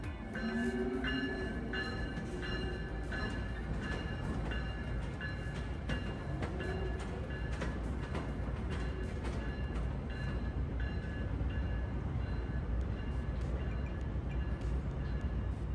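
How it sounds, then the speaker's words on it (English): Two Siemens ACS-64 electric locomotives pull away on the Carolinian line, a steady, continuous rail rumble with metallic squeals and faint whines throughout, heard without any talking. "The loco swap begins with our two ACS-64s pulling out in front of our train"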